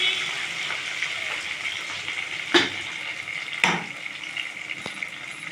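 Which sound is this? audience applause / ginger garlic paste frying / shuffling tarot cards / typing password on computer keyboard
ginger garlic paste frying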